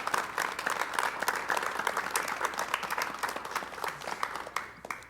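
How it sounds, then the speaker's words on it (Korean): A studio audience applauds to welcome a guest, a master of the Bongsan mask dance, on a 1988 Korean television talk show. The clapping is dense and steady throughout and fades slightly near the end. "여러분 박수로 환영해 주시면 대단히 고맙겠습니다"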